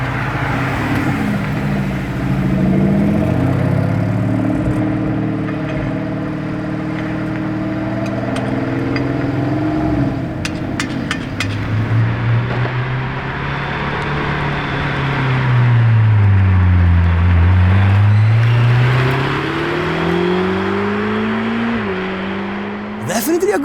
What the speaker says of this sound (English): Here another Urus SE.